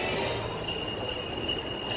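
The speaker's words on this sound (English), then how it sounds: "we are taking the tram to the Luxor" Las Vegas tram running from Excalibur to Luxor, a continuous rolling rumble with a high steady whine and faint squeal throughout, no talk.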